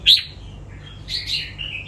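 High, thin chirps from red-whiskered bulbul chicks in a nest, a few sharp peeps early then a cluster of brighter calls later, close by over a low steady background hum.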